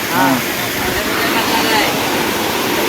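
A hill waterfall near a village roars as a steady, loud wash of falling water, broad and continuous, with faint voices of boys bathing nearby.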